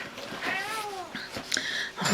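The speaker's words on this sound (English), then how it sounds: "Sorry if you can hear my cat, it wants out." A pet cat wanting to be let out gives a drawn-out rising and falling meow, fairly close and clear, amid faint rustling and handling noises in a quiet room.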